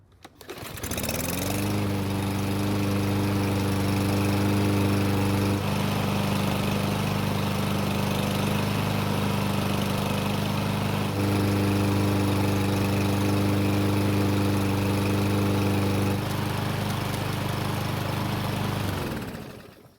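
A Troy-Bilt lawn mower engine catches on a recoil pull and settles into a loud, steady running drone close by, holding for the whole stretch before cutting off at the end; no voices.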